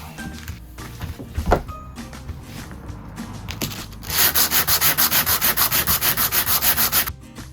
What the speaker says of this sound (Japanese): 少し平らに削っといた方がいいかもわかりません